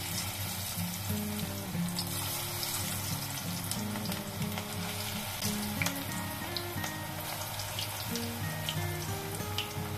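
Pakodi fritters, a gram-flour snack, frying in hot oil over a medium flame, giving a steady, continuous sizzle with dense crackling throughout and occasional sharper pops, fairly close and unbroken.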